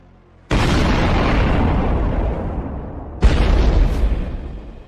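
HIMARS rocket strikes land on a Russian convoy as two heavy blasts, the first a sudden loud boom with a long rumbling tail, the second another sharp impact a few seconds later, rolling on afterward.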